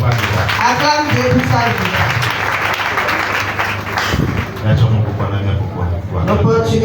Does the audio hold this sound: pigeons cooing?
no